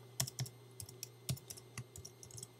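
Typing on a computer keyboard: a handful of crisp, close key clicks tapped in an uneven rhythm over a quiet background hum, with short pauses between keystrokes and no speech.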